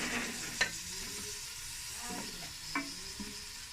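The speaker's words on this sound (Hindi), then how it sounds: "चिकन को हम अच्छी तरह से इसके अंदर जो है वो अब फ्राई करते हैं।" Chicken for pulao fries in a pot, a steady close sizzle running throughout, broken by a few sharp scrapes and clinks of a stirring spoon against the metal.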